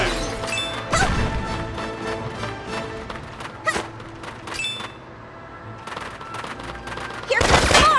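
Gunfire and crashing impacts in the video game Valkyria Revolution: loud, dense bursts of shots over game music, with a heavy blast near the end.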